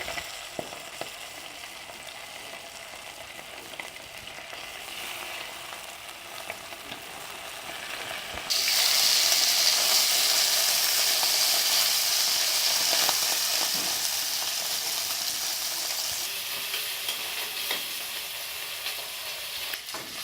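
Pieces of fish for mustard fish curry sizzle steadily in hot oil in a pan, a continuous bright crackle that grows louder and denser partway through, with no talking.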